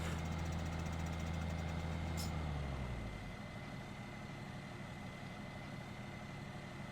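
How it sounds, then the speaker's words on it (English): A tractor engine in Farming Simulator 15 idles with a low steady rumble that drops in pitch and settles to a quieter drone partway through, with a brief high tone near the start and no voices. "And wow, that tractor's really shaking back there."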